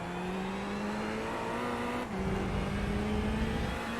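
Ferrari 488 GT3 EVO race car in the iRacing sim at Circuit Gilles Villeneuve, its engine droning loud and steady near at hand, pitch dipping once at a shift midway, then a rougher low roar through a curb.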